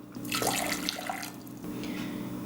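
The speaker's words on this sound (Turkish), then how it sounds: "Üzerine aynı ölçüde yani 2 su bardağı su ekliyorum." Water poured into a pot to make sugar syrup for baklava-style laz böreği gives a steady splashing gush for about two seconds, close and fairly loud, with no talking.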